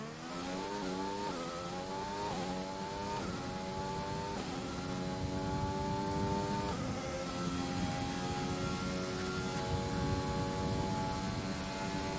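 Racing video game car engine in a steady high-pitched drone, revving up through repeated gear shifts with rising pitch sweeps, loud and continuous with no talk.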